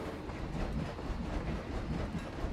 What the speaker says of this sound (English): Off you go, train.